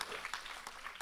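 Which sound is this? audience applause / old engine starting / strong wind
audience applause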